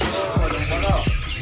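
Caged birds squawk and call at a bird market in Pemalang, a dense chorus of chirps and harsh squawks close by, with market chatter mixed underneath.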